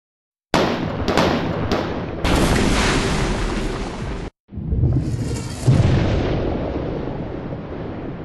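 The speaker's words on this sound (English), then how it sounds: "fire the cannons" Video game audio: a ship's cannons fire in a rapid series of loud booms, several sharp blasts in quick succession followed by heavier explosions with rumbling tails and debris noise.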